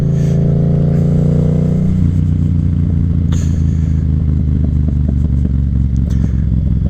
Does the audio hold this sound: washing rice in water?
no